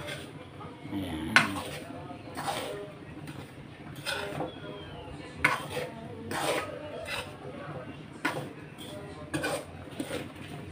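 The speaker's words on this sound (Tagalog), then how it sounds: "Mahina lang po ang apoy, tapos po ay hindi nyo po titigilan ng halo para po hindi masunog." A spoon scrapes and knocks against a pan while polvoron flour toasts over low heat, giving intermittent metallic clinks and rasping strokes at close range, with someone speaking between them.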